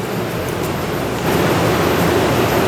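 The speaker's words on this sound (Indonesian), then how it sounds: "dengan suara air sungai, jadi makin nikmat gitu" River water rushes steadily beside an outdoor restaurant in Ciwidey, a loud broadband wash that swells slightly midway and holds without pause.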